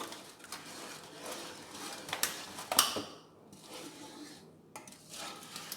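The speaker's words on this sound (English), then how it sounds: "I'll stir this around just to get the sugar and the milk" A spoon stirs sugar and milk in a pot for New Orleans pralines, giving soft scrapes and a few sharp metallic clinks against the side, quiet and close, with brief pauses between strokes.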